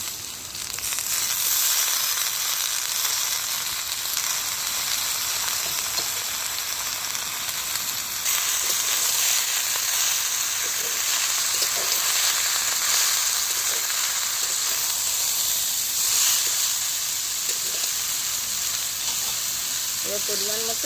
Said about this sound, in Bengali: এবার বিট আর আলুগুলোকে দিয়ে দিচ্ছি।